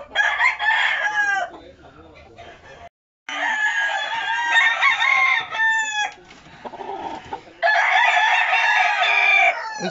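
Roosters being shown for a raffle crow repeatedly up close, several long loud calls broken by short pauses and one brief silence, with quieter clucking and rustling between them.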